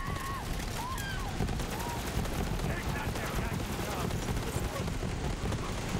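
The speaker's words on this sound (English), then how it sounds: "our legendary SMG is gonna be perfect for this guy. Just gonna melt the armor real quick." Legendary SMG firing in Borderlands 3, a dense, continuous stream of rapid shots sustained over several seconds at steady loudness, mixed with game effects and chirping tones.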